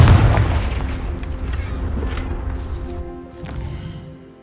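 A Confringo blasting spell exploding in Hogwarts Legacy, a loud booming burst at the start that rumbles and slowly fades, with a smaller second impact near the end.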